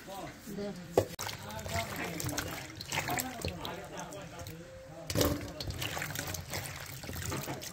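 Goat meat is rinsed in water for a rural-style mutton and potol curry, giving a running trickle and splashing under continuous nearby talk, with a sharp knock near the start.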